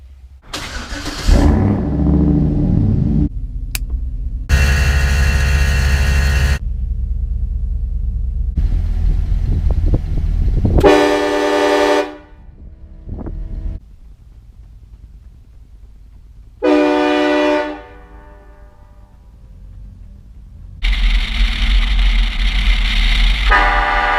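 Loud, blaring train horn blasts from a Chevrolet Silverado pickup truck, several long and short bursts separated by pauses, with engine rumble in between.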